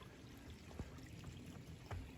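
Creek water flowing steadily beneath a small bridge on a mountain hike toward a waterfall, a broad, faint, continuous rush with a couple of soft low bumps near the listener.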